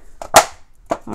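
Plastic case for a set of 72 wax colored pencils snapping shut, a few sharp close clicks and clacks in quick succession, with no talking.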